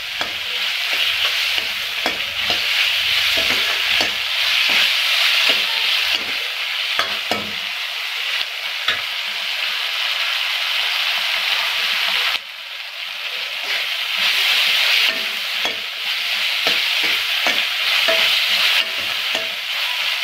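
Potato kurma ingredients sautéing in a pan, a loud, continuous close sizzle broken by repeated scraping strokes of a spoon stirring through the mixture, with no talking.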